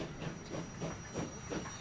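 A train runs along the tracks in the Transport Fever 2 video game, giving a quiet, steady hiss with faint rhythmic clacks repeating about every third of a second.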